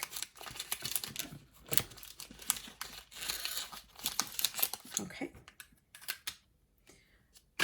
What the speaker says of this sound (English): Oh, I think I'm gonna need scissors for this.